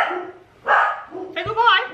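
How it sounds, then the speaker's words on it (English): Dogs bark in short sharp bursts, a few loud yaps and a whimpering yip spaced across the moment, with a voice also present nearby. "Sounds like a dog fight."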